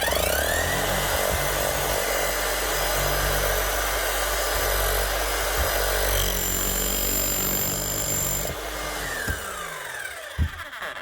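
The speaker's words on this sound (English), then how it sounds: "One Bosch GSH 5 CE, fully serviced, up and running again, running smooth, no more rattling" A freshly serviced Bosch GSH 5 CE demolition hammer runs with a steady, smooth motor whine for about eight seconds, then winds down and fades near the end, close and alone.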